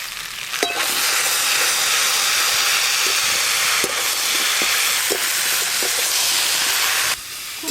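Vegetables sizzle loudly in a pan coated with ginger-cumin paste, turmeric and a little chili powder, a steady hiss broken by several soft clicks of stirring. It ends with a brief pause.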